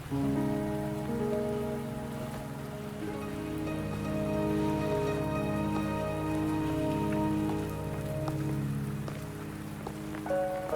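Rain falling in the video game Wuthering Waves, a steady wash of pattering drops that holds at an even level throughout. Sustained tonal game music plays over it, and no one speaks.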